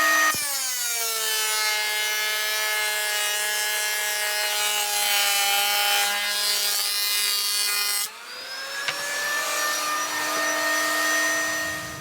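Red oak staves being cut lengthwise on a power saw, a loud steady whining tone that holds for about eight seconds, then shifts pitch as the blade moves through the wood, with no talking.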